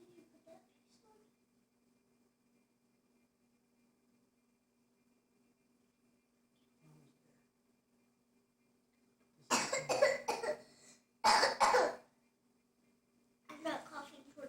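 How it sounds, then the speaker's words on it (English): Near a Christmas tree and gingerbread project, a near-silent room gives way to several loud, close bursts of coughing in clusters toward the end, with a faint steady hum underneath. "I'm not coughing towards our Christmas tree."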